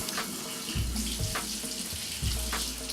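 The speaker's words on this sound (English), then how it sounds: "So I just have some cold water here." Cold water running from a tap into a sink while leeks are rinsed, a steady close splashing hiss with uneven spatters and knocks as the stalks are moved under the stream.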